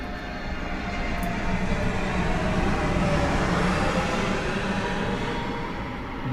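An airplane passes overhead as a steady, loud broadband roar that holds evenly for several seconds with no voices.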